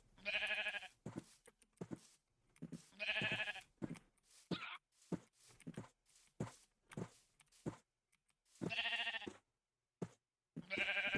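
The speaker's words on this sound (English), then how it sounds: "Herding sheep is so difficult." Sheep bleat repeatedly in the Minecraft video game, several loud, close bleats in bursts with short gaps, mixed with blocky footstep sounds and brief clicks while a flock is herded toward a pen.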